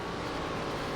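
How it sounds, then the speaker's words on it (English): A NASCAR Gen 4 race car engine in iRacing drones loudly and steadily as it passes close alongside, with no talk over it. "Heard that engine getting louder and louder to my left side."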